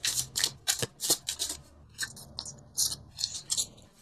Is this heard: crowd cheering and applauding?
no